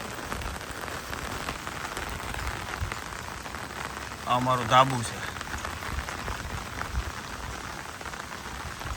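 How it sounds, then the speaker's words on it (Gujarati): Steady rain pours onto a flat concrete rooftop terrace during a monsoon downpour in Saurashtra, Gujarat, a dense continuous hiss with a brief voice speaking midway. "હવે કઈ બાજુ એટલો બધો વરસાદ છે."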